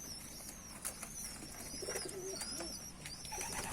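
Ornamental pigeons coo softly and repeatedly in a quiet pen, with faint chirps and low background hiss throughout.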